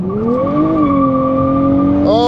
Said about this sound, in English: All right, full throttle. It says launch control, and in 3,